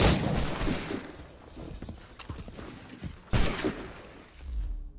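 Gunfire in Assassin's Creed III, a few loud booming shots with crackling tails spaced a second or two apart, close and sharp against quieter background.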